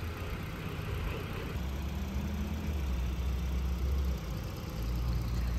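A 2022 Hyundai Tucson SEL's 2.5 liter engine idling with the hood open, a steady low rumble and hum holding evenly throughout with no talk.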